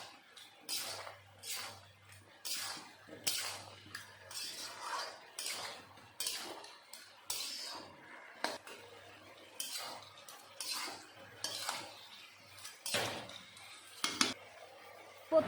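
A spoon repeatedly scrapes and clinks against a pot while mixed vegetables for pachan, including green banana, are stirred, in irregular close strokes with short pauses and no talk.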